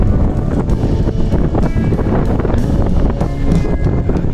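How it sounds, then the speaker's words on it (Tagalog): Strong wind gusts over a rough, choppy sea in a steady, loud roar of broadband rushing noise, buffeting the microphone and covering any quieter sounds, with no voices. "Mahangin, ah."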